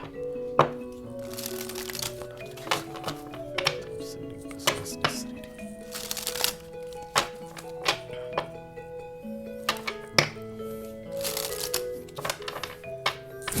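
An Oracle card deck is shuffled and handled with repeated sharp snaps, riffles and soft thuds in an uneven rhythm, close and clear, while a faint tonal music bed plays underneath.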